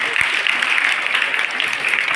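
Steady applause from an audience at a teachers' honouring ceremony, dense clapping held at an even level for the whole stretch.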